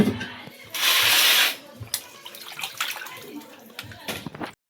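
Running water pours steadily for about a second while raw meat is washed ahead of a family winter barbecue, followed by softer splashing, sloshing and handling noises with a voice faintly in the background.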